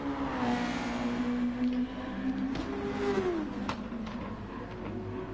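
A race car engine in a racing video game holds at full throttle in a sustained, loud whine that dips and climbs slightly as gears and revs shift, with no talking over it.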